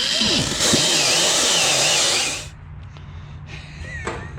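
A loud, steady, gritty sanding noise grinds on for a couple of seconds as the ribs of a rubber motorcycle tire are sanded off, then cuts off, leaving quieter background sounds with a few light knocks.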